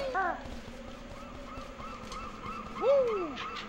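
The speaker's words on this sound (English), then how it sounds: "This is the exact same seagull sound effect that plays on Gloomy Galleon in Donkey Kong 64." Two sharp, rising-falling seagull cries from the video game Banjo-Kazooie, in Treasure Trove Cove, one near the start and a louder one near the end, over a soft background of ambient noise.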